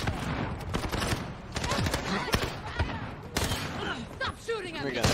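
Chaotic automatic gunfire in Modern Warfare on the cramped Shipment map, sharp cracks and bursts coming thick and fast, with people talking over the firefight.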